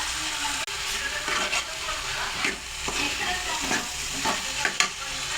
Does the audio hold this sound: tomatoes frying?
yes